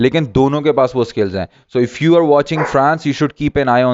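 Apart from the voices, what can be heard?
No distinct noise like a dog, phone or traffic.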